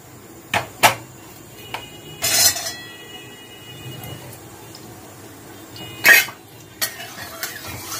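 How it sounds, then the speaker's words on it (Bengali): Potatoes frying in oil in a kadai, with a low sizzle under several sharp scraping and clinking strokes of a metal spatula against the pan, close by and spaced irregularly. "আলুটাকে আমি পুরো তেল দিয়ে ভেজে নিচ্ছি"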